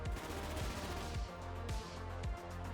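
A CBJ-MS gun in a Call of Duty game fires in loud, rapid bursts, with shots in quick succession dominating a dense background of game noise and no talking.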